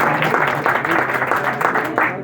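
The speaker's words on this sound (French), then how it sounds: "Effectivement, on peut leur donner une bonne main d'applaudissements." A crowd gathered for a community welcome celebration breaks into a short round of applause, a close, dense patter of hand claps with a faint murmur of voices beneath.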